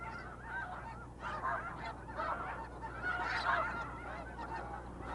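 A large flock of migrating geese at Blackwater National Wildlife Refuge honking continuously, a dense, distant chorus of overlapping calls over a steady outdoor background.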